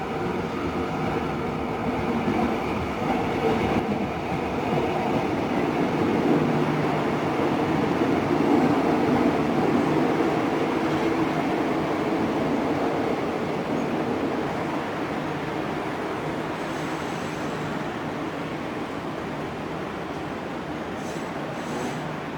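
KRL Jogja–Palur electric commuter train pulling into platform 1 at a station, a steady loud rumble and hum of the arriving train sustained throughout, with faint high squeals near the end.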